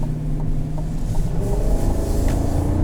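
Deep, steady rumble of a 2021 Chevrolet Tahoe High Country 6.2-liter V8 under load as the rear wheels spin in two-wheel drive, a continuous close engine drone without clear tire squeal.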